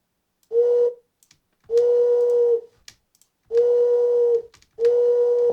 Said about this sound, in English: Now I've got a nice little whistle.